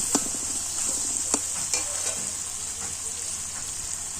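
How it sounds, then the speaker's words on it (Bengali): Potatoes and tomatoes being stirred in a hot pan, a soft constant sizzle with a few clear scraping knocks of the spoon early on, then quieter steady frying; close and without talk. "ভালো করে নেড়ে চেড়ে নেব আলুগুলোকেও টমেটোর সাথে ভালো করে মিশতে দেব"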